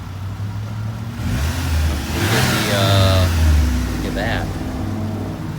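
A 2001 Saturn SC2, freshly tuned up with a new belt and spark plugs, idles and revs steadily at close range, its low engine hum swelling mid-clip while people talk over it.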